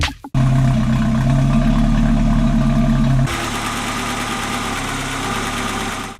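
A VW Golf Mk2 engine runs after a carburettor service, a loud close steady idle with a low drone that briefly rises in pitch before settling into a smoother, slightly quieter hum, no voices.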